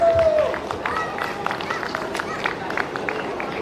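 Applause from an award-ceremony audience at an annual day celebration, a dense, steady spatter of many hands clapping at a moderate distance, with crowd murmur beneath.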